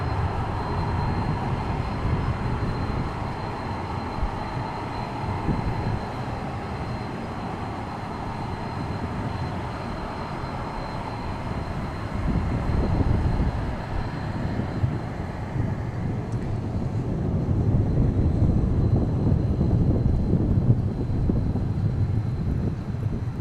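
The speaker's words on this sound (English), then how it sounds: "This is American 133 Heavy from Dublin, arriving on the east side." A heavy airliner, American 133 Heavy inbound from Dublin, arriving at DFW Airport, rumbles as a broad, steady low roar mixed with wind buffeting, swelling slightly louder toward the end of the pass.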